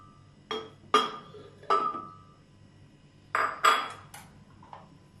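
Frozen strawberry cubes dropped into a blender jug for a milkshake, a handful of hard clinks and clunks in two clusters, close and ringing, with no talk over them.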